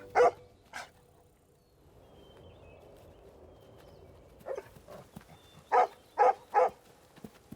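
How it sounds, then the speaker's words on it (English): A dog gives a few sharp, loud barks close by, a couple at the start and a tight cluster of three near the end, with quieter ambient noise and faint movement sounds between them. "Good dog, Joseph. Go find him."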